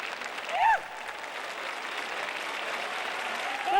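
Alumni at a school's golden jubilee banquet stand and applaud their teachers, a broad, continuous round of clapping with a brief whistle or cheer near the start and murmured voices underneath.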